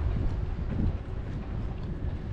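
Strong wind in fog at a yacht port in Cartagena, buffeting the microphone with a steady low rumble throughout and no voices.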